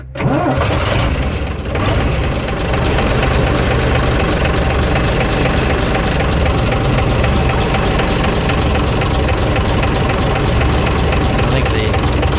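A diesel engine in an AEC Militant 6x6 artillery gun tractor catches and settles into a loud, rough, steady idle with a faint knock, running close by without letup.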